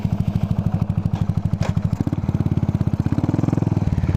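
A Buell Blast single-cylinder motorcycle idles up close with a rapid, even thumping beat that quickens and firms slightly halfway through, loud and alone.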